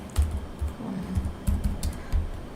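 Soft keystrokes clatter on a computer keyboard in short irregular bursts, close and fairly quiet, with a faint steady room hiss and no voices.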